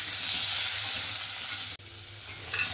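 Potatoes for a chicken curry frying in a wok with salt and turmeric, a dense close hiss of sizzling oil with a brief stirring clatter partway through.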